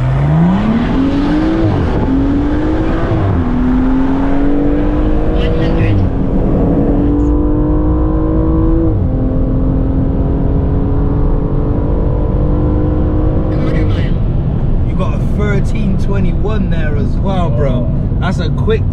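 A manual BMW M135i and an automatic BMW M235i launch in a drag race, engines roaring loud and close as revs climb through several gear shifts, fading into distant hum, with voices faintly audible near the end.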